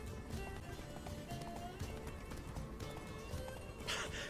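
Roach, Geralt's horse in The Witcher 3, gallops in quick rhythmic hoofbeats close by, mixed with game ambience and a brief snort near the end, fairly quiet overall.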